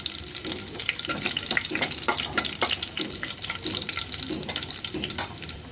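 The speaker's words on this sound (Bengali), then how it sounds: "তো তেল গরম হয়ে গিয়েছে আমি এখানে রসুন কুচি দিয়ে দিলাম" Chopped garlic sizzles in hot oil with a steady crackling hiss, nearer bursts of spattering and occasional stirring scrapes running throughout, with no voices.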